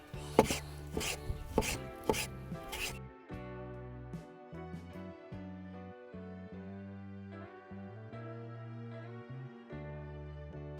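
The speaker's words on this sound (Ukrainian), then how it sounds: "беремо сакиру і починаємо качати м'язи. Е, Точніше, звичайно, рубати м'ясо" Meat being chopped with an axe for lula kebab: a quick run of loud, close, heavy chops for about three seconds, then music plays on its own.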